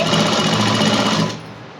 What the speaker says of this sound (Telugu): క్లాత్ని అయితే ఇట్లా తిరగేసి అయితే స్టిచ్ చేయాలండి.